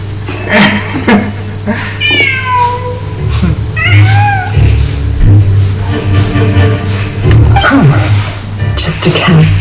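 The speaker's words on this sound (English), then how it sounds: "Just a cat." A cat meows several times in the Genshin Impact video game, with rising, wavering cries over a steady low game soundtrack hum and some talking.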